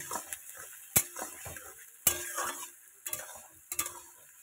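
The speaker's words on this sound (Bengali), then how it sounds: "এটাকে একটু আগে ভাজা করে নিই" Small whole onions fry in a pan while being stirred, with a soft steady sizzle beneath sharp intermittent scrapes and clinks of a utensil against the metal, about five distinct knocks, no talk.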